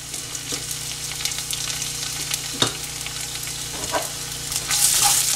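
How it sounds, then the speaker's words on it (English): Chopped ginger and garlic fry in hot oil in a pan for soya chunks Manchurian, giving a steady close sizzle with a few stirring knocks and no talk. "Then first I'm going to add our chopped ginger and garlic."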